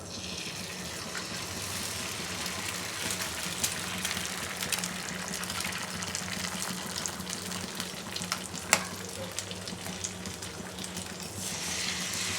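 A potato mixture with beaten egg fries in a pan, giving a steady, even sizzle and hiss throughout with a few small pops and no voices.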